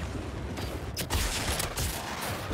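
Dense continuous gunfire in the Suicide Squad: Kill the Justice League video game, loud sustained firing with sharper shots punctuating a thick roar of combat noise.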